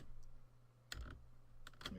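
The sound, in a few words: typing a password on a computer keyboard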